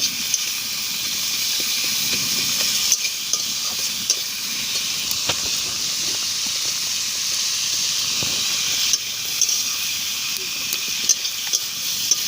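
Garlic and ginger paste sizzles steadily in hot oil in a pan, a continuous close hiss with small crackles and an occasional stir, and no voices.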